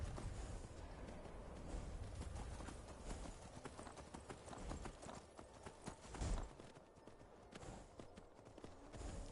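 Hooves clip-clop as a horse runs in the video game Skyrim, a quiet rapid rhythmic patter with a louder thump near the middle.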